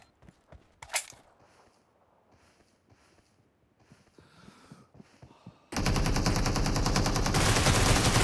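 Groza and AKM rifles fire in a shooter game: a few sparse shots and mechanical clicks with footsteps at first, then a dense, loud, sustained burst of rapid automatic fire.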